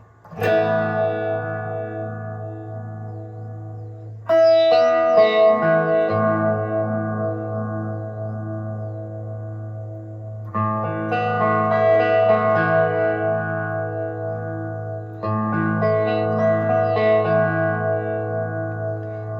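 Sustained electric guitar chords swirl through a strong phaser sweep from a TC Electronic Helix Phaser pedal at full setting, bright and cutting on top, struck anew a few times and ringing out between strikes.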